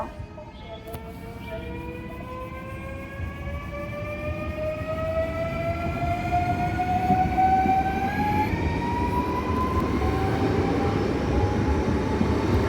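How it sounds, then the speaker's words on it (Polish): The Bolko passenger train pulls out of Opole Główne toward Wrocław Główny, its traction motors whining in steadily rising tones over a growing wheel rumble as it gathers speed nearby. "Odjeżdża pociąg Bolko do Wrocławia głównego."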